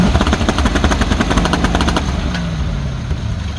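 A Corvette C5 V8 engine held against an MSD two-step rev limiter makes a loud, rapid staccato crackle of fast pops for about two seconds, then settles into a steadier, lower rumble.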